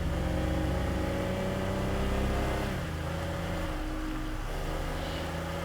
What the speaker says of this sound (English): I'm going to commandeer this car just to get around here a bit easier.